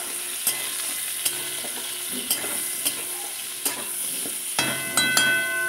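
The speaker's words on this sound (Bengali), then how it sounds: "তাহলেই হয়ে যাবে ডাঁটাগুলো ভাজবো" Vegetable stalks fry in oil for a pointed gourd dish, a soft sizzle punctuated by regular sharp taps and scrapes of a spatula against the pan, with no one talking.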